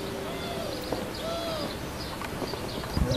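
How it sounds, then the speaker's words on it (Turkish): Birds call and chirp intermittently against a steady outdoor background, with a few clear tonal notes standing out over the ambient noise. "Kuşların ötüşleri."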